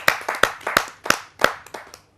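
Audience clapping to welcome a poet at a Hindi kavi sammelan, a handful of sharp, close claps in an uneven rhythm that fade out after about two seconds.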